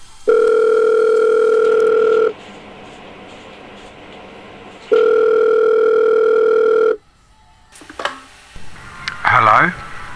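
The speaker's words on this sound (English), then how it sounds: "It was around about that time I got a pretty important phone call." Two long electronic telephone rings sound for an incoming call, each lasting about two seconds with a pause between, followed by quiet handling noises.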